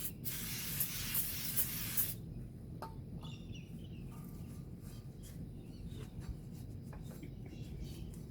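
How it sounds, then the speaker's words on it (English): Aerosol brake cleaner sprayed onto a Honda Prelude brake rotor in a sustained hissing burst of about two seconds, followed by quiet rag wiping and faint handling noises. "give it a bit of a hit with some brake clean, and hit it with a rag as well"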